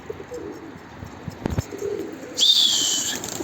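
A yellow pied flight pigeon on a rooftop coos softly outdoors, with a brief thump of movement, light wing sounds and a thin whistling tone joining near the end.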